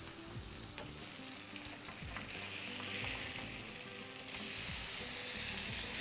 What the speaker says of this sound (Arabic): ادي السلمون تقليبه بالراحه كده